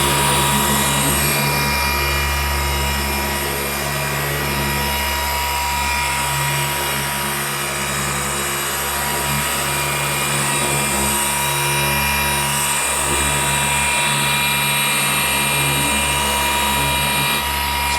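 A machine polisher works the paint of a Mitsubishi Evo 8 during finish polishing, droning loud and continuous with a steady low hum and high whine, rising and easing slightly as passes are made.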